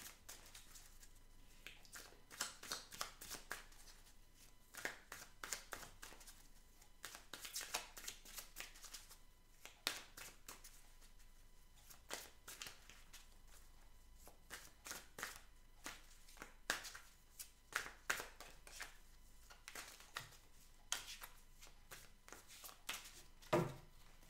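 Tarot cards being shuffled by hand in quiet close-up, a long run of soft, rapid riffling and flicking bursts with short pauses between them.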